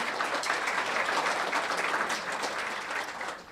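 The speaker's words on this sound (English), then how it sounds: "Let's give another round of applause for Rose Randazzo" Sustained audience applause at a Person of the Year award event, a dense, steady wash of many hands clapping that fills the room at even loudness for several seconds before easing slightly at the end, with no voices over it.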